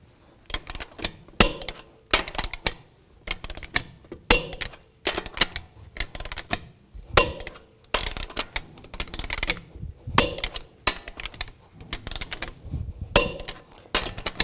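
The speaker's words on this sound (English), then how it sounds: "I'm going to torque the lug nuts to 140 foot-pounds in a cross pattern to tighten the wheel down" Lug nuts being torqued down in a cross pattern to 140 foot-pounds on the wheel of a 2010-2017 Chevrolet Equinox, heard as repeated short metallic clicks and clanks in regular bursts, close and fairly loud with no talking.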